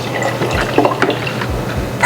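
Kefir is poured from a container into a jar in a steady, close-up liquid stream with splashy, gurgling filling sounds and a few drips, and no voices.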